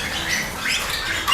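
Bali starlings in a breeding aviary give brief, scratchy chirps and squawks over a close, noisy background chatter.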